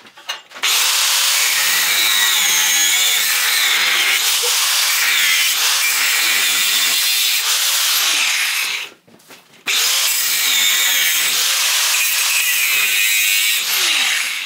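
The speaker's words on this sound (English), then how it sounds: "We'll cut these last bits now." Power tool cutting steel tubing for a Harley-Davidson chopper hardtail rigid frame, a loud, continuous grinding screech that runs for about nine seconds, briefly stops, then resumes just as harshly.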